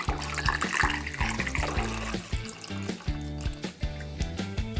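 Apple cider poured through a funnel into a large container, a steady splashing liquid pour with gurgling and a few knocks and clunks, fairly close and continuous, with no talking.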